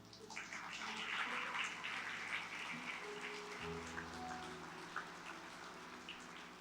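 A church congregation applauding during a Sunday service, steady dense clapping from many hands heard at moderate distance over a low sustained hum, with no voices.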